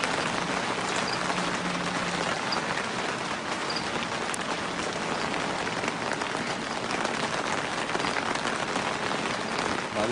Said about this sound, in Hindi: बारिश तेज होती है।